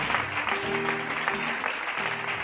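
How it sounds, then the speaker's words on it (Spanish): Church congregation clapping for the Lord, a dense steady wash of applause with faint voices or sustained tones beneath it. "Un fuerte aplauso para el Señor"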